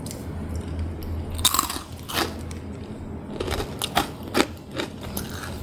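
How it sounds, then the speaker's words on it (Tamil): Crisp butter murukku, a fried snack flavoured with ajwain, being bitten and chewed close up, giving a string of sharp crunches and brittle snaps over a quiet background. "கேட்குதா உங்களுக்கு சவுண்டு அவ்வளோ கிறிஸ்பியாக இருக்குது"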